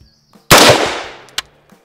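A single sharp, loud rifle shot fired from a fixed position during a barrel length and velocity test, cracking close by and decaying over about a second, followed by a faint clink.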